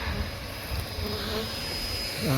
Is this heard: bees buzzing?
yes